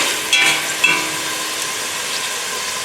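Onion frying in cooking oil in a pan, a loud steady sizzle with two brief stirring bursts early on, then an even crackling hiss.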